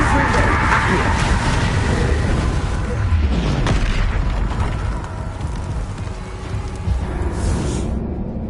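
Confringo fire-spell explosions in Hogwarts Legacy combat boom heavily and close, a thick rumbling roar with sudden pops and bursts that eases slightly toward the end, while a voice calls out over it.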